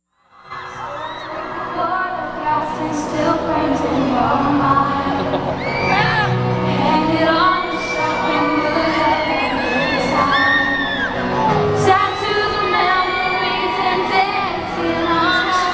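A large live concert crowd cheers loudly for a cover, a dense sustained roar of screams, whoops and shouting that swells and stays high throughout.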